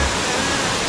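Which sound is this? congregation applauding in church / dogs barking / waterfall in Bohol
waterfall in Bohol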